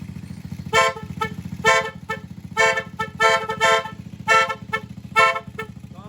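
A loudhorn wired through a relay plays an NHAY Pro Music melody, a loud series of short and longer musical horn blasts in a rhythmic pattern over a steady engine idle.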